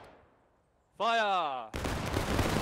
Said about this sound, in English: Firing by battalion.